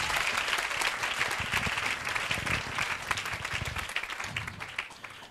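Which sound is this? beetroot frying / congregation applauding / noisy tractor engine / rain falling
congregation applauding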